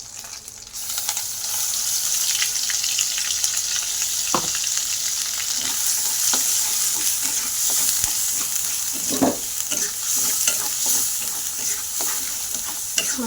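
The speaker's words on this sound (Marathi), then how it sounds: "जे मच्छी तळली ना मी त्याचंच तेल आहे, त्यातच मी मसाला तळून घेणार आहे." Ground spice masala frying in the oil left from frying fish, a loud, steady close sizzle broken by occasional scraping stirs and light clinks, with no talking.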